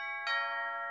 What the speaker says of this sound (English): the doorbell rang again